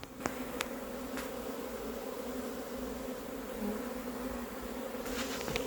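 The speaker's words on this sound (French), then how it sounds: "Je fais voler un peu les abeilles au sol, pas fort, pour qu'elles retrouvent un des deux cartons." Honey bees buzz steadily around cardboard swarm boxes set on the ground outdoors, a continuous low droning hum of many insects with a few faint clicks.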